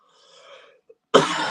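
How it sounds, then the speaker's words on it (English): A single harsh cough bursts out after a moment of faint murmuring, loud and close, then trails off in a breathy rasp. "This bloody cough is awful,"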